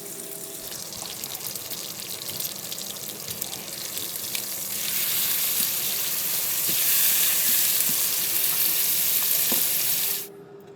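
A burger fries in a pan under a splash guard, giving a steady close sizzle with scattered grease pops that swells louder partway through and then cuts off sharply.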